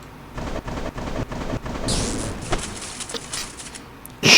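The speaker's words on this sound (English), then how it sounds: "Now, Zell, how about another chain lightning?" Chain lightning spell from the video game Age of Fear 4 strikes as a series of sharp crackling booms, with a hissing electric sweep midway and a final loud crack at the end.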